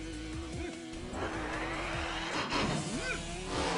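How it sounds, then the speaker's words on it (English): An engine revs hard while tires squeal and spin continuously, loud and close throughout. "he's fueled his determination into revving up his tires"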